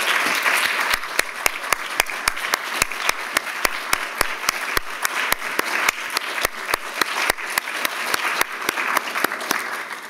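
An audience at a nursing graduate school awards ceremony claps for faculty members who stand, with loud, dense applause that stays steady throughout in an indoor hall.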